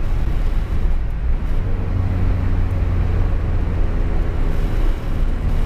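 A Citroën C15 van engine drones loudly and steadily from inside the poorly soundproofed cabin, a constant low rumble filling the whole stretch with no talk over it.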